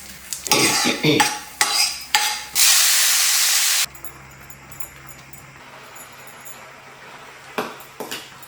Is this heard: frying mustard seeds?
yes